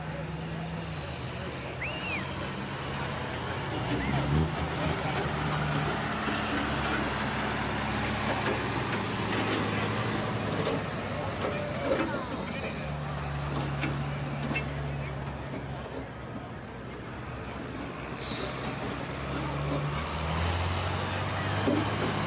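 A 2009 Kenworth truck engine drones steadily at a truck pull event, a low rumble that rises and settles across the stretch, with crowd noise and a voice talking over it.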